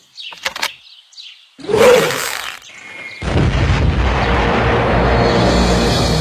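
An arrow-release sound effect from a dramatized Mahabharata podcast: a few sharp bursts, then a loud whooshing surge that swells into a sustained, roaring rumble, with no talking.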